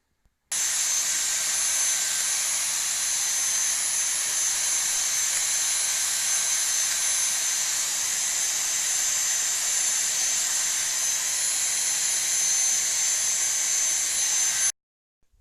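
A Dyson V6 Mattress handheld vacuum cleaner runs close by while cleaning dust from the lower part of a computer tower. Its motor gives a loud, steady high-pitched whine that starts abruptly, holds constant for about fourteen seconds, then cuts off, with no talking.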